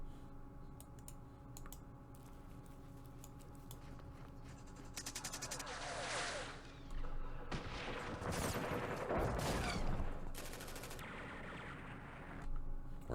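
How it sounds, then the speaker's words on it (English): Machine gun fire in the Campaign Series Middle East war game, bursts of rapid gunfire over busy background game sounds, with loud stretches in the middle and near the end. "Ran into a machine gun."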